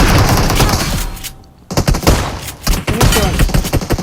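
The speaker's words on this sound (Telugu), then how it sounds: "ఫైరింగ్ వస్తుంది" Dense automatic gunfire from the mobile battle-royale game BGMI rattles loudly in rapid bursts, pausing briefly before resuming in a continuous fusillade.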